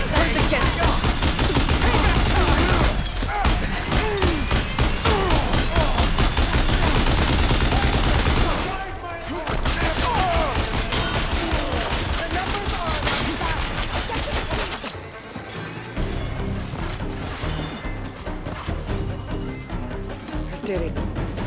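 Dense, continuous gunfire in the video game Horizon Forbidden West, loud and layered with rapid repeated shots, crashes and a busy game soundscape, with brief dips around a few seconds in and a voice talking over it.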